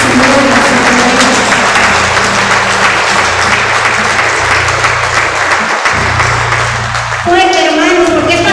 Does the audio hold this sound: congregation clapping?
yes